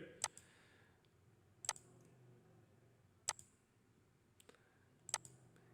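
Sharp computer mouse clicks while formatting text in Word, four or five crisp isolated clicks spaced about a second and a half apart over quiet room tone.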